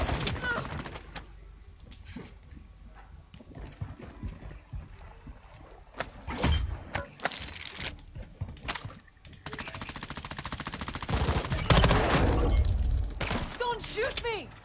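Gunfire in the battle royale game Apex Legends crackles in bursts of rapid automatic shots, near and loud, with scattered single reports and in-game voice callouts between volleys.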